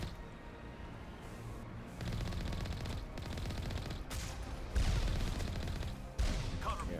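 Rapid automatic gunfire rattles in Mass Effect combat, sustained bursts with heavier surges partway through, loud and continuous with no talk over it.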